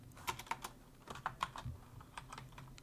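Light, quick keystrokes tap on a computer keyboard in short irregular bursts, soft and close, with no talking.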